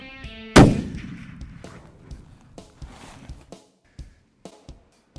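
A CVA Paramount muzzleloader rifle fires a single Power Belt 280 grain ELR bullet outdoors, one sharp loud blast that booms and rolls away, followed by faint scattered knocks and footsteps.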